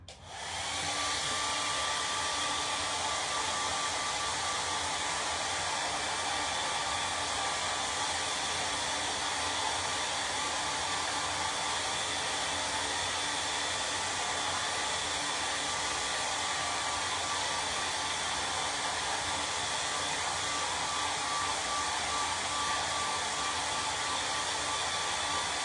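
A hair dryer drying a craft project, running continuously at a steady, loud whir from start to finish with no other sounds.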